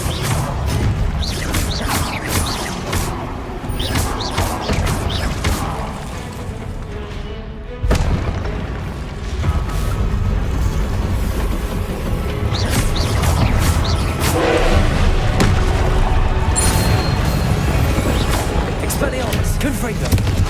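Blasting-spell explosions from the Hogwarts Legacy video game: repeated booms, crashes and thuds over continuous game sound, with a spoken spell incantation and other voices throughout.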